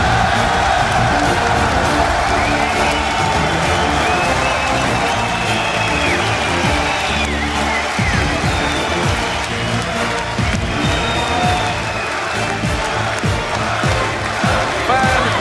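A home crowd cheers inside the Zenith in Paris during a League of Legends All-Star esports match, a loud, sustained roar of voices, whoops and clapping that fills the hall throughout.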